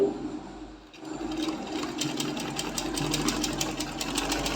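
A sewing machine stitches fabric up close: after a brief pause near the start it speeds into a fast, steady mechanical rattle of needle strokes that carries on to the end.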